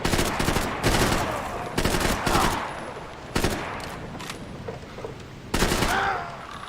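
Bursts of rapid gunfire from the video game Max Payne 3, several loud volleys separated by short pauses, with a faint game voice between them.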